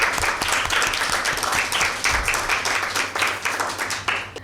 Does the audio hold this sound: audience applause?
yes